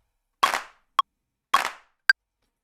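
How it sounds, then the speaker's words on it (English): A clap drum sample in a music production session plays twice, each snappy burst followed by a short sharp tick, evenly spaced, loud and dry against silence. "So now we got the clap."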